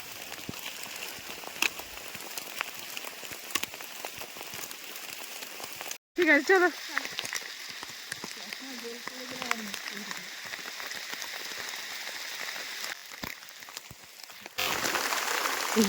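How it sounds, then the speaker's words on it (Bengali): Heavy downpour on a mountain trek near Dhotrey and Tumling, a steady broadband hiss of rain running throughout, briefly cut at one point and swelling louder near the end, with a few frog-like croaks and short speech partway through. "বাবা কি মুষলধারে বৃষ্টি"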